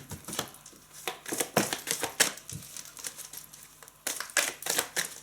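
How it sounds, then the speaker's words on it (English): Tarot cards shuffled by hand in a quiet room, giving irregular bursts of crisp papery riffling and slapping that come and go in clusters over several seconds, close and alone. "just give these a little bit of a shuffle"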